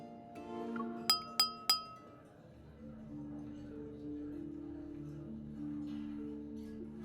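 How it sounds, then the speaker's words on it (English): Three crisp, bright clinks of wine glasses ring out in quick succession at a banquet aboard a ship in the game LaDS, sharp and close over a soft, sustained musical backdrop that continues after them. "the crisp sound of clinking glasses captures everyone's attention"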